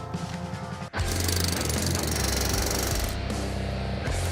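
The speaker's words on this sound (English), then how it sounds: "He's using the hydraulic hammer." A hydraulic hammer pounds on railway track in a loud, continuous rapid rattle, close by, with brief breaks near the start and end of the run.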